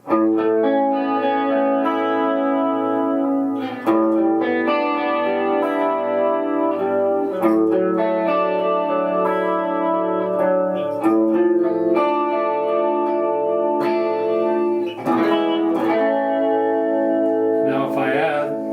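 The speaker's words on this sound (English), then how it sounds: "here's how it would sound if I was just playing guitar." An electric guitar through an Electro-Harmonix MEL9 pedal plays sustained chords with a thick, shimmering synth-pad tone, swelling and changing every few seconds, loud with no voices.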